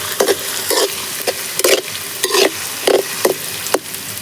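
Chopped onion sizzles in hot oil in a pan over a village wood-fired clay stove for cabbage manchurian, with a steady loud fry hiss broken by about eight scraping stirs of a spoon, and no voices.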